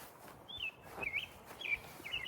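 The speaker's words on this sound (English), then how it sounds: "Listen to those birds, man." Faint, thin bird chirps and whistled notes repeat a few times against a soft outdoor background hiss, distant and quiet.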